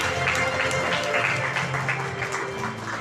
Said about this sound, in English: A very, very, very big round of applause to Saharsha Santosh Vaimandya